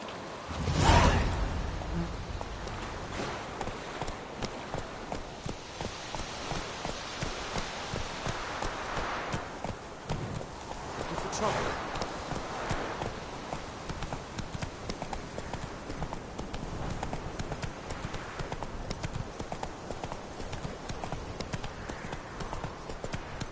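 Roach, the horse in The Witcher 3, gallops with a rapid, continuous clip-clop of hooves over a rumbling outdoor game soundscape, loud at first and steady throughout.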